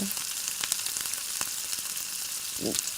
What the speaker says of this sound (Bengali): এই পর্যায়ে আমি এবারে তেলের উপরে হলুদ দিয়ে দেব। হলুদ বাটা দিয়ে নাড়তে থাকব।